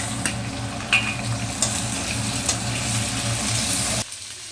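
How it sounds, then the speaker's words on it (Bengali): Ginger and vegetables sizzle in a hot pan in a dense, steady frying hiss, punctuated by a few sharp scraping stirs, before the sound cuts off abruptly near the end. "তো একটু একটু ভেজে নেব আদাটাকে"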